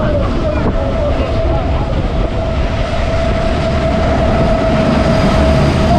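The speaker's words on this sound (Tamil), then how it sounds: "இந்த எலக்ட்ரிக் ட்ரெயினில் போயிட்டு இருக்கும்போது" An electric suburban train runs near Villivakkam railway station on the Tiruttani to Chennai Central line, giving a loud continuous rumble with a steady motor whine and rattling carriages.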